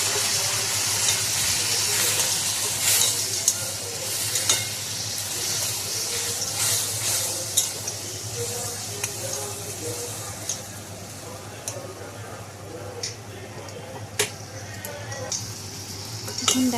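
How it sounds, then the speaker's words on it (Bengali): Ground poppy seed and mustard paste stirred with a little water in a hot pan, giving a soft continuous sizzle broken by scattered scrapes and taps of the spoon against the pan. "এখন দেখো ভালোভাবে মশলাটা আমি নেড়ে নিয়েছি।"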